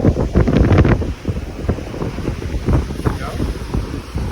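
Strong wind buffets the microphone on a beach during a kitesurfing discovery lesson, loud gusty roaring rising and falling, with surf in the background.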